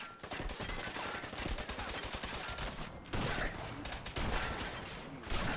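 Rapid bursts of gunfire from Hancock in the video game Wasteland Warrior, loud and close, with fast repeated shots in several volleys separated by brief pauses.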